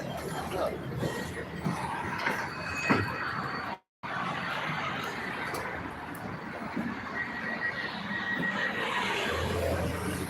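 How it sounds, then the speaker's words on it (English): A Badner Bahn tram running near Vienna gives a steady mechanical rumble and clatter with thin metallic squealing tones. It continues at moderate loudness with a brief dropout partway through, and no one talks. "this is a special tram with which you can go to Baden, a city close to Vienna"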